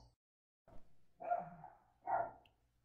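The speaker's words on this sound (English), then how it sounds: "Sorry about that, my dogs are barking, of course." Dogs bark a few times indoors, muffled and somewhat distant, two or three separate barks with short gaps between them.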